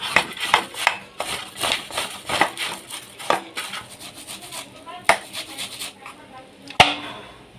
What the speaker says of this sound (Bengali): চলো তালটা ঘষে নিই।